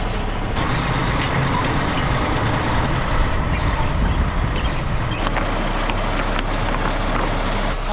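A farm truck engine runs steadily, a loud, continuous low rumble with constant mechanical noise throughout and no talking.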